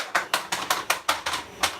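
A vacuum-sealed bag holding a spool of Fillamentum Rapunzel Silver PLA 3D printer filament being stabbed again and again, giving about eight sharp, close, crunchy punctures in a quick, fairly even rhythm.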